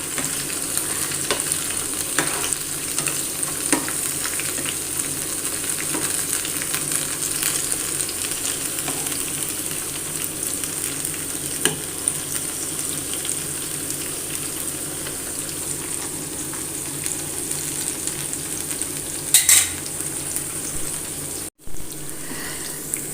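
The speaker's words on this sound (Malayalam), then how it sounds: "അങ്ങനെ തിരിച്ചും മറിച്ചിട്ട് നമുക്കതങ്ങനെ മുരിച്ച് മുരിച്ച് വേവിച്ചെടുക്കാം" Chicken pakoda sizzles steadily in hot oil in a pan, a constant close frying hiss broken by occasional clinks and scrapes as the pieces are turned, with a brief louder clatter near the end.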